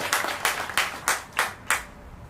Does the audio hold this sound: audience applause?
yes